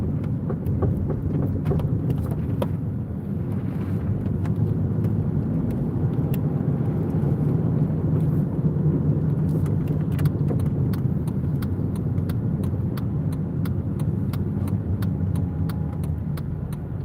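A car drives along the road, heard from inside the cabin as a steady, close engine and road rumble with faint small rattles, and no one talking.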